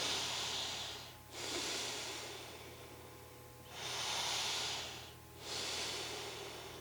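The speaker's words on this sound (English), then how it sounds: "Breathing deeply, allowing the breath to create space in the body." Slow, deep breathing during a gentle yoga flow, with long airy inhales and exhales rising and falling in a steady cycle, close and soft, with no talking.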